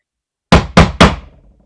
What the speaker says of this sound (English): What is knocking?